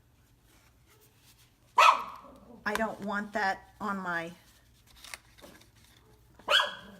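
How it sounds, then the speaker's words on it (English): Dogs bark indoors, a neighbour's dog and a house dog: a few sharp barks break up an otherwise quiet room while someone speaks. "the dog next door is barking, so Bijou's going to bark"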